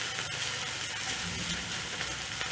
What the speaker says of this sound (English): So you cook your bacon